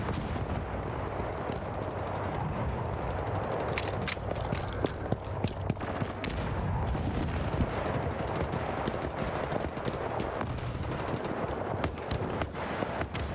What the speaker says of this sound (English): Got the no scope shot with the pistol, boy.